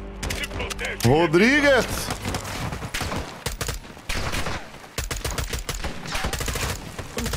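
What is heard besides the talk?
gunfire in Call of Duty Modern Warfare 2 video game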